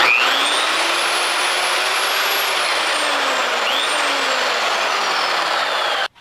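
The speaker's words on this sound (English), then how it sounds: "It's powered by a pipe threader that I got for like 179 bucks." A pipe threader drives a homemade bead roller with a loud, steady motor whine and whirr whose pitch drifts slightly, running alone until it cuts off abruptly at the end.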